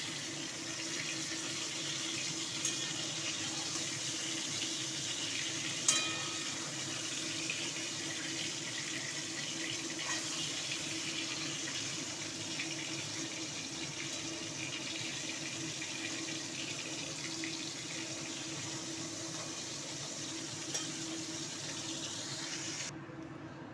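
Tap water runs steadily into a sink while katla fish pieces are washed, a constant moderate rushing stream with a few faint knocks, then it cuts off abruptly at the end.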